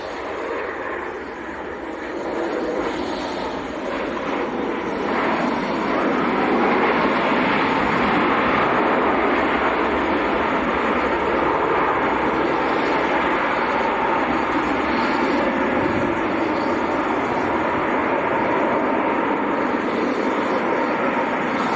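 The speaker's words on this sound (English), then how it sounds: "I think there's a plane about to land as well," A plane coming in to land at Leeds Bradford Airport, heard as a loud, continuous engine roar that swells slightly and then holds steady throughout, with no talking.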